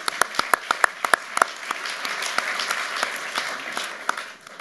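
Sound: audience applause

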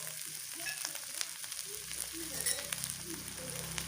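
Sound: curry chili paste stir-frying in a pan

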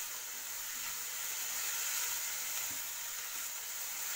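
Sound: stir-frying vegetables with soy and chili sauce

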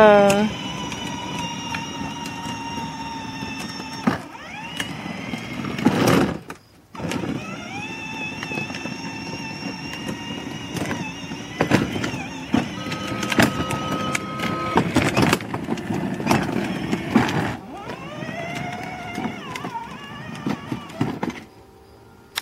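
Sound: child driving her ride-on toy car

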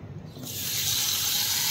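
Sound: pouring water into a bowl

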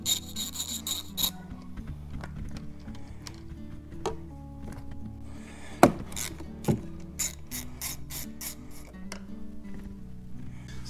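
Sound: ratchet loosening 9/16 nuts on battery terminals

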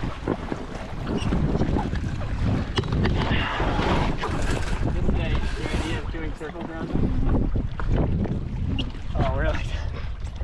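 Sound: Hobie 16 catamaran tacking in wind

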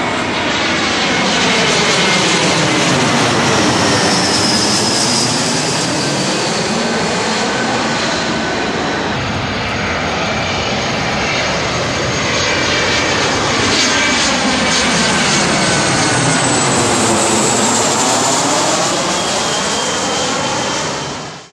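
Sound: airplanes passing low over Los Angeles airport runway approach

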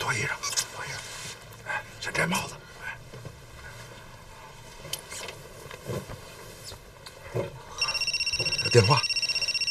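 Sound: telephone ringing

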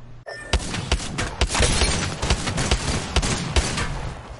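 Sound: gunfire in a video game

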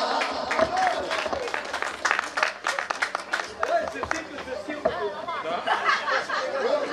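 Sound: audience applauding

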